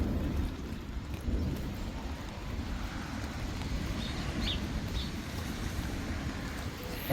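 Heavy rain drums on a tent during a thunderstorm, a dense steady low rumble with faint distant bird chirps and no voices.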